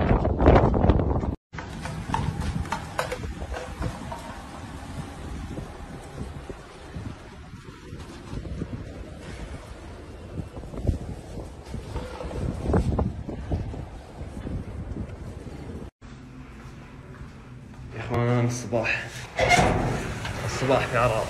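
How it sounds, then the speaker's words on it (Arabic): Strong dusty wind gusting over the desert city of Arar, Saudi Arabia, a steady roaring buffet against the microphone with brief dropouts and rattling, banging noises, while a voice talks through much of it. "رياح قوي."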